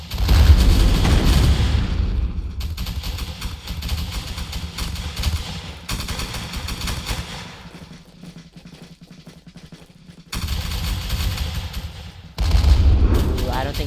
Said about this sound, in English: he seems to be diverting the artillery fire